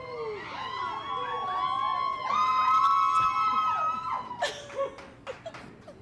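A studio audience whoops and cheers, with several high rising and falling voices swelling together before trailing off into scattered shouts.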